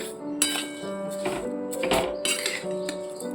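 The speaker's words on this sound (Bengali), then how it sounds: "এবার সমানে এইভাবে নাড়তে নাড়তে পুরটাকে রেডি করে নেব" A spoon stirs pitha filling in a pan over a gas flame, making a few close metallic clinks and scrapes against a background of humming, faintly tonal kitchen noise. No one speaks.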